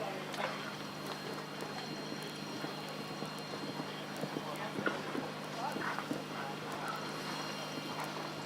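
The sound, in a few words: horse hooves walking, show jumping gelding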